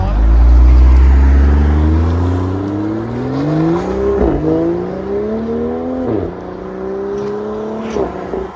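A BMW M340 with its 3.0-litre turbo engine and an aftermarket exhaust revs loud and close, climbing through several rising pulls with short drops between them and a deep burbling note underneath.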